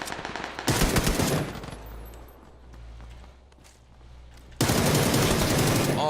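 Beryl M762 assault rifle fire in the PUBG video game: two loud sustained automatic bursts at the start and end, separated by quieter in-game ambience and movement.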